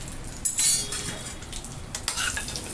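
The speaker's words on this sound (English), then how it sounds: "And I'll give the pumpkin a nice stir." Pumpkin pieces stirred with a spoon in a pan of hot oil with mustard seeds, cumin and curry leaves, giving soft scraping and clinks over a light sizzle, close up and brief.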